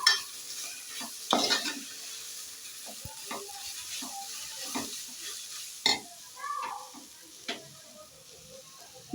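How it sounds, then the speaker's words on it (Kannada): Bread toast palya being stirred in a frying pan, with a spoon scraping in irregular bursts over a steady low sizzle, the louder strokes spaced a second or two apart, close and clear with no talk. "ಇನ್ನು ನೀಟಾಗಿ ಒಂದು ಮಿಕ್ಸ್ ಕೊಡೋಣ ನೋಡಿ ಬ್ರೆಡ್ ಟೋಸ್ಟು ಪಲ್ಯ ರೆಡಿ ಆಗ್ತಾಯಿದೆ"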